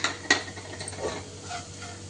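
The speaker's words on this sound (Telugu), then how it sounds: "తర్వాత కారం వేసుకొని మిక్స్ చేసుకోవాలి." A spoon stirs chili powder into beetroot rice in a pan, giving a sharp metallic clink near the start followed by soft scraping and shuffling, quiet and close.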